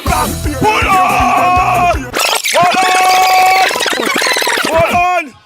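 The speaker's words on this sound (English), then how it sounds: "Hear the people scream." A crowd screams and yells loudly at a PNM political meeting in Tobago, harsh overlapping shouting that breaks briefly, then surges again before stopping.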